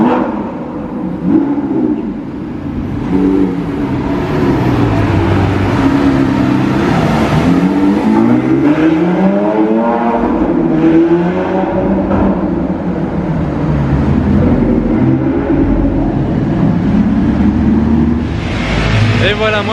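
A Lamborghini Aventador SVJ accelerates through a tunnel, its engine building into a loud, sustained roar with rising and falling revs that echo off the walls, and voices chatter faintly underneath.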